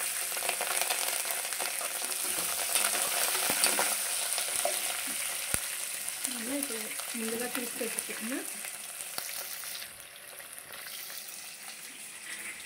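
Continuous sizzle of tomato and curry leaves frying in a pan, with scattered sharp spoon clicks while stirring and a faint voice murmuring in the background.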